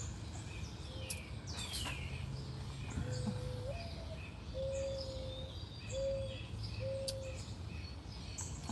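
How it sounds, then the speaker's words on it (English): An owl hoots outdoors with a few steady, evenly spaced calls at moderate distance. Scattered bird chirps and a low background hum run beneath. "Can you guys hear the owl?"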